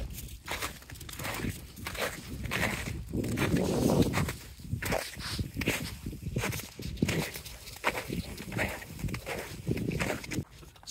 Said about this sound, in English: Sometimes just the sound of your own footsteps keep you going one step after the other.